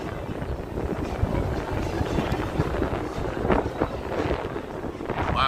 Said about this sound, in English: Wow, it's getting windy.